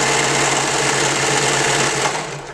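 A domestic sewing machine runs steadily at speed in a home kitchen, a continuous close whirring drone with a faint rhythmic chatter, dropping slightly in level at the very end.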